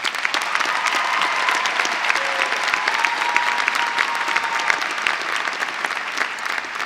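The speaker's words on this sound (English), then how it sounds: "Let's give Dr. Lowe a round of applause." Audience at a spring university commencement ceremony applauds steadily for several seconds, a dense, even clatter of many hands in a large hall with no talking over it.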